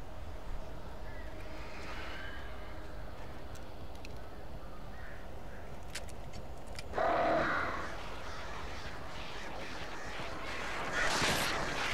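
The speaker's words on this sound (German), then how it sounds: "Diese Vögel sind unheimlich." Crows caw in the video game Alan Wake, harsh bursts rising out of a dense, noisy ambient bed, one louder cluster midway and another near the end, with faint voices mixed in.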